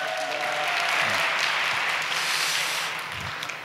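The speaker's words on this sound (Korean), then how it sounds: "박수로 보내주시기 바랍니다." A church youth joint worship service audience claps steadily to welcome a guest, a dense, even wash of applause filling the room for several seconds and easing slightly toward the end.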